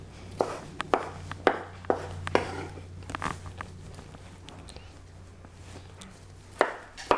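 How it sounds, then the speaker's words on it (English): A knife chops cooked lobster meat on a cutting board with a run of sharp, evenly spaced knocks that thin out into softer scraping, then one more pair of chops near the end, close and clear, with no voices. "Almost done here with the chopping of the lobster."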